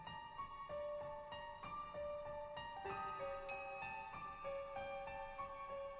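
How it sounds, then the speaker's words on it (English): A microwave oven chime in the Steins;Gate visual novel, heard as a string of clear, sustained electronic tones stepping through a melody, with one brighter high note partway through, steady and alone. "the microwave oven makes a casual chime"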